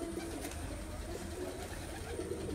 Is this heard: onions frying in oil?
no